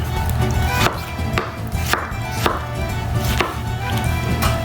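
A sharp knife chops fresh tomatoes on a cutting board, sounding as regular crisp knocks about every half second, close and clear over faint background hum.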